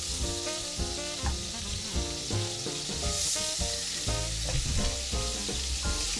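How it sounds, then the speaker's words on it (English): Steaks searing in olive oil in a hot pan, a loud, dense crackling sizzle that holds steady and close for the whole stretch, with no speech. "I have 2 tablespoons of olive oil in the pan, and we're going to sear them very nice on both sides"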